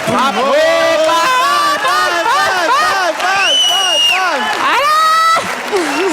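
A studio audience on a New Year 2014 entertainment show claps and cheers loudly. Whoops and shouted voices rise over the crowd noise throughout.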